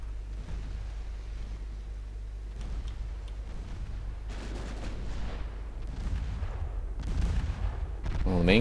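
Battleship secondary guns in the naval strategy game Ultimate Admiral Dreadnoughts, set in a 1956 Norwegian campaign, fire on a transport: a low rumbling run of distant gun reports and booms, building louder toward the end, with speech underneath.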